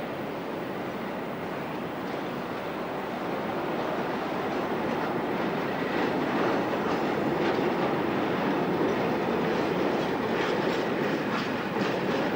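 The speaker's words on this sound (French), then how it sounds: "la 12063 va déposer son train sur une voie du faisceau d'échange" SNCF Crocodile electric locomotive 12063 hauls a train through an exchange yard. A continuous rolling roar with rhythmic clickety-clack of wheels over rail joints grows slightly louder as it passes, and no voices are heard.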